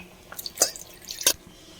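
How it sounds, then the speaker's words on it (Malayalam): Water poured from a mixer jar into a simmering vegetable curry, heard as a few quick splashy drips and gurgles in short bursts, close and moderately loud. "മിക്സിയുടെ ജാറിൽ കുറച്ച് വെള്ളം ഒഴിച്ചിട്ട് അതും കൂടി ചേർത്ത് ഒഴിച്ചു കൊടുക്കാം"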